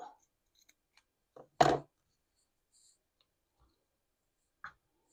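A pair of scissors cuts ribbon in a quiet room with one crisp, close snip and a few faint clicks and small handling sounds before and after.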